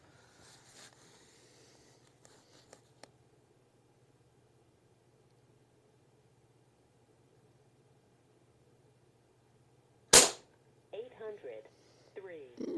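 A single sharp crack from an Umarex Gauntlet 2 air rifle stands out after a long quiet stretch, followed by someone talking.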